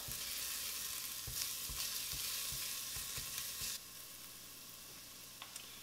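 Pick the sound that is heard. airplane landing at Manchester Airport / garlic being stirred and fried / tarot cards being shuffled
garlic being stirred and fried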